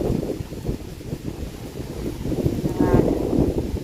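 Hot wind gusts buffet the microphone outdoors, a steady low rumble that swells louder toward the end, with voices talking underneath.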